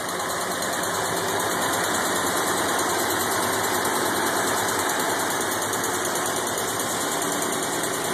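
An M38A1 jeep engine runs steadily on its own gas tank, a loud, continuous idle with an even mechanical drone and no talking.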